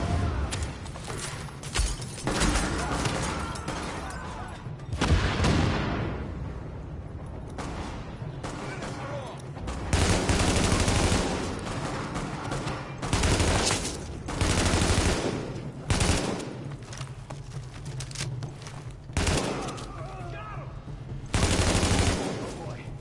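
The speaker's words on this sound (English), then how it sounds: "The escort party's taking heavy fire from the roof." Heavy automatic gunfire from a rooftop in the shooter game The Division: loud, dense bursts of rapid shots that start and stop repeatedly, with short lulls between volleys.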